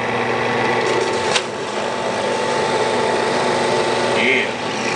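A power drill runs continuously as it bores through a book, a steady, close, high-pitched whine with a brief bump in pitch near the end.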